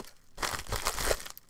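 Scissors and hands open a knitting subscription box, giving a close, steady run of crinkling and tearing packaging noise for over a second with no talking.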